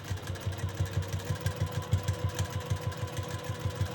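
Sewing machine stitching in reverse across a quilt block, a steady fast low mechanical thrum with regular pulsing, close and continuous, with no talk.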